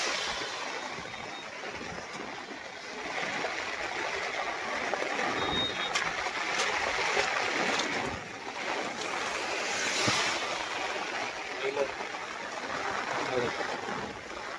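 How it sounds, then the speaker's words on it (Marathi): A heavy downpour falls on open farm fields, a steady loud broadband roar with gusty swells and no break, carrying on for the whole stretch. "जबरदस्त पाऊस शेतकरी मित्रांनो"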